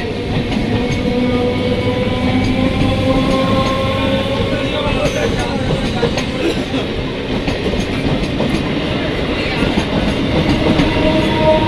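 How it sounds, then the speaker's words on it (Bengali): A Bardhaman–Howrah local train runs past the platform at Chandannagar railway station with a loud, continuous rumble and rhythmic wheel clatter, sounding close, while faint voices are heard. "37836 down Bardhaman Howrah local."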